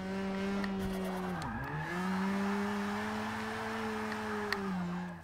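Forza 6 drifting, a steady engine drone with sustained tire squeal that dips in pitch once mid-slide and then holds, loud and continuous with no talking.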